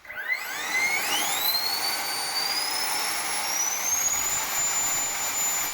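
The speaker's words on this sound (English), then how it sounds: "Now we got here the JP fan, 90mm." A 90mm JP electric ducted fan with its nozzles set for vertical thrust spins up with a rising whine, then holds a loud, steady high-pitched roar, close by and alone.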